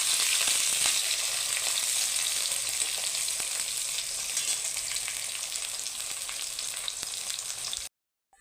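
Eggplant slices fry steadily in hot oil in a wok, a bright continuous sizzle with scattered crackles that holds strong for about eight seconds, then cuts off abruptly.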